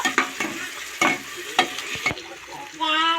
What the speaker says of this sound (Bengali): টমেটো কুচি দিয়ে দেব। এখন বেশ কিছুক্ষণ আমি নেড়ে নেব।